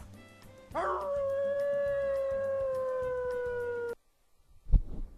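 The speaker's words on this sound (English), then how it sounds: "That's a ugly dog, isn't it?" A dog howls in Lightning Returns: Final Fantasy XIII, one long sustained wavering howl over a rhythmic game soundtrack, ending abruptly, followed by a short thump.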